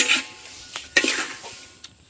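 Sun-dried paddy grains are stirred and scraped around a hot pan, the traditional way, giving a dry rattling hiss with a few sharp utensil scrapes against the metal near the middle and end, close and alone.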